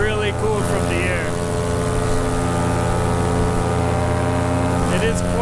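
A paramotor engine buzzes steadily and loudly in flight low over sand dunes in cold air, a droning propeller hum with a voice speaking over it.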